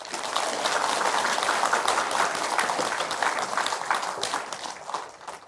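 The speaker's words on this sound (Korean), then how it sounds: "박수 한번 주십시오" An audience at a Buddhist meditation center dharma talk in Korea breaks into steady, sustained applause that fills the room for several seconds before tapering off at the end.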